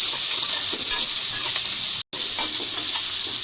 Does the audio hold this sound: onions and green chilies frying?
yes